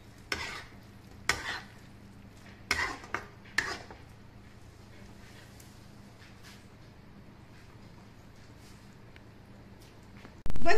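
Paneer pieces being mixed in a pan for a dhaba-style Paneer Hyderabadi, with a few sharp spoon-on-pan scrapes and clinks early on, then a quiet stretch under low kitchen hiss.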